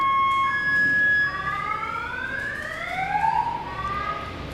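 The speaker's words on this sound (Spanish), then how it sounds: "Se disparó la alarma de un carro." A car alarm sounds from outside, its electronic tones sweeping up and down and then warbling steadily, fairly loud and continuous for several seconds with no talk over it.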